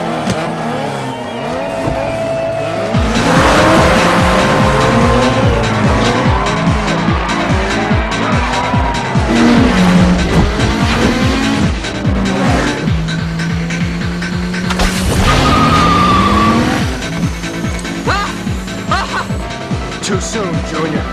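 A 2018 RAM 1500 truck's engine roars on takeoff, revving loudly with rising pitch and some tire noise, while voices talk over it throughout.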